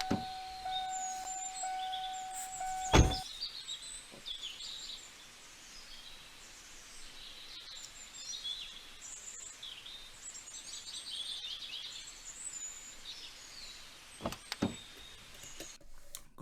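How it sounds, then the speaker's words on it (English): Birds chirp and tweet faintly in the background as an ambient layer, with scattered high calls throughout and a couple of louder thumps partway through. "putting bird sounds to set the ambience of the video"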